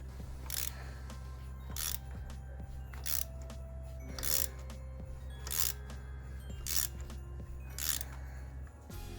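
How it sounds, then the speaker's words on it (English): A ratchet wrench loosens a tight spark plug on an Alfa Romeo Giulietta 1.4 engine, giving about eight evenly spaced bursts of close, crisp ratcheting clicks over a low steady hum. "Man, this spark plug is going way too hard"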